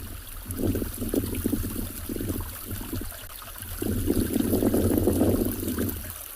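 Water from a small stream on a South African safari drive, a steady low trickling and burbling that swells louder midway and runs continuously without voices.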